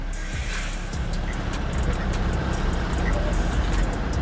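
Cars idle and roll through a FASTag toll lane on the Ahilyanagar–Shirur–Pune highway at night, a continuous low engine and road rumble close by with no talk.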